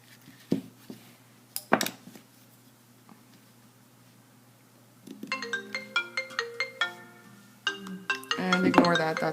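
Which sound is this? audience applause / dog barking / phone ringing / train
phone ringing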